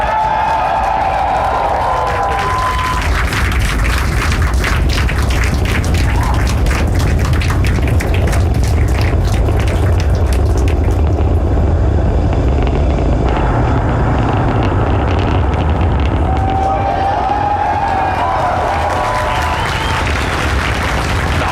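A SpaceX Falcon Heavy lifts off from LC-39A at Kennedy Space Center on the USSF-44 mission, its engines producing a loud, continuous crackling roar that stays dense and unbroken throughout.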